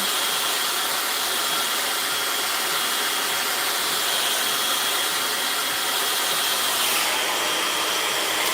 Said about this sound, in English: I'm gonna put this blow dryer on high, and I'm gonna blow this hair back